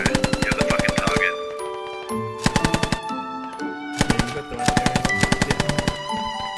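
Heavy-calibre machine gun fire in a military video game, coming in several rapid rattling bursts separated by short pauses, loud and close.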